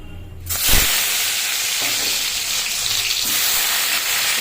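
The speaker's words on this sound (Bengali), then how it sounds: "তেলটাও গরম হয়ে যাচ্ছে এখন আমি বেগুনগুলো ছেড়ে দেবো" Thin strips of eggplant, coated in salt and turmeric, dropped into hot oil that bursts into a loud, dense sizzle after a brief quiet start, then keeps frying steadily and close up.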